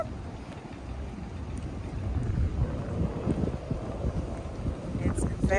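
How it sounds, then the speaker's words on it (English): Strong wind buffeting a microphone outdoors at Graceland in Memphis, a low rumbling roar that swells and gusts unevenly, with a faint voice speaking underneath. "It's very windy today."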